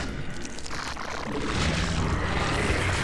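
A drone in a video game flies with a dense, roaring engine drone that swells slightly and holds steady, loud and continuous throughout.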